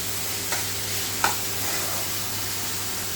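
Spiced masala for chicken curry, cooked down until the oil separates, sizzling steadily in a pan with two brief scraping stirs against a constant low background hum.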